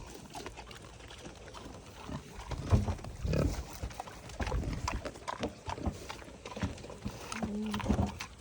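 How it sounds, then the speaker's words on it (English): Pigs grunt and snuffle nearby in a farm pen, a run of irregular, low oinks and rooting noises coming in bursts over a few seconds with some scuffling movement. "Little piggies are over there."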